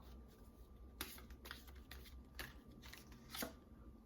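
Tarot cards being shuffled by hand during a reading, several soft riffling bursts and crisp slaps spread across a few seconds, close and fairly quiet over a low room hum.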